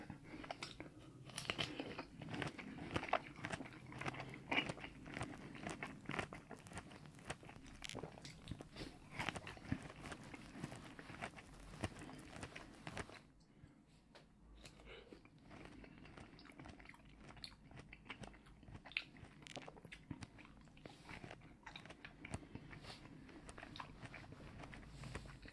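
Close-up eating of fresh fruit from a platter, with repeated crisp bites and wet crunchy chewing in an irregular rhythm, soft and intimate, and a quieter stretch partway through.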